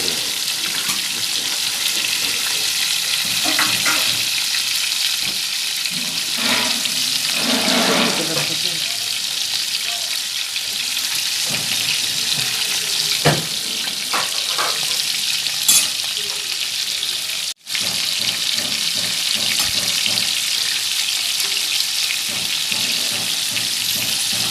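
Chapli kebabs frying in a pan with a loud, steady sizzle and crackle throughout, with occasional sharper spatters and stirring clinks.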